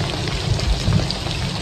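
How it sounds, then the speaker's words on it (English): Steady rain falls during a storm in the Okefenokee Swamp under Spanish moss, a dense continuous patter of drops on leaves and surfaces, close and unbroken with no voices. "There's a lot of Spanish moss on the top that's keeping a fair bit of the rain off of me, actually."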